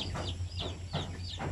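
Native hens clucking in a repeated rhythm of short calls, close and clear over a low steady hum, with no talk.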